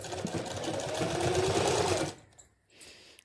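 A sewing machine stitches the fabric of a pant cuff, a soft steady whirring run of rapid needle strokes lasting about two seconds, then stopping with a few faint clicks and a small rustle.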